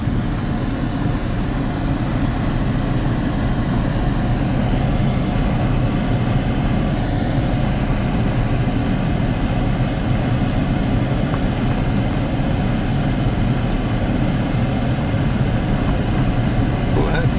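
Inside a car rolling through a drive-through safari park, a steady low engine and road rumble carries on throughout while people in the car talk.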